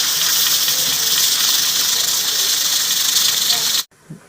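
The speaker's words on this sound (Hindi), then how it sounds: "अब मैं इसको ढक्कन लगाकर स्टीम लगाऊंगा तकरीबन 20 से 25 मिनट।" Beef korma steams under a lid in a pot, giving a loud, continuous close hiss that cuts off abruptly, followed by a faint clunk.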